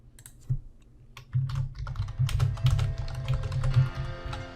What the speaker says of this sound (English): Now you can just start typing.